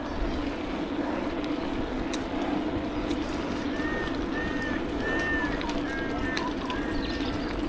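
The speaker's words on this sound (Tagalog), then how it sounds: "malakas na huni ng ibon na yun. Ano yun? Uwak." A crow in Australia calls loudly in the morning, a series of five or six repeated caws in quick succession over a steady outdoor background rumble.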